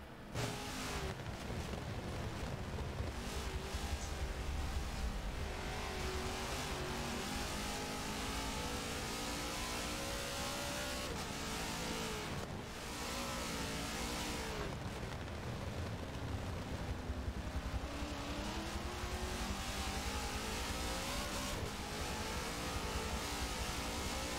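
V8 Supercars racing on the final lap, engines roaring loud and steady as cars pass, rising and falling revs blending into a continuous wall of motor noise.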